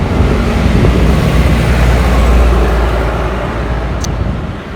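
Traffic rushes past on a roadside, a loud continuous roar of cars passing close by that swells and then slowly eases away.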